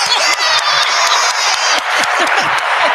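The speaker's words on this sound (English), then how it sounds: "Let's clap it up for that." A crowd claps steadily and loudly at a lively livestream gathering, the applause filling the whole moment with a few faint voices mixed in.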